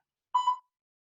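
An interval timer sounds during a cardio and Pilates workout, giving a single short electronic beep that is clear and close, with silence before and after.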